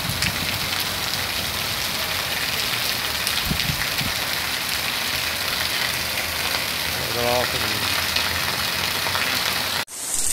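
Heavy rain beginning to pour in the Ceará backcountry of northeastern Brazil, a steady dense hiss of drops on surfaces filling the whole stretch, with a brief voice near the end and the sound cutting off abruptly just before the close.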